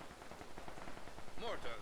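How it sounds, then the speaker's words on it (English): Rapid machine gun bursts from a position in a building during a Company of Heroes 2 battle on a port map, chattering steadily and moderately loud within busy game noise and distant explosions. "that was actually firing at the MG in the building"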